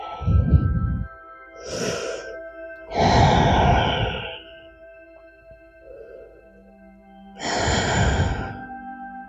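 Slow yoga breathing as a person exhales into a forward fold: several long, close sighing breaths and airy exhales come in a steady rhythm, with quiet pauses between them.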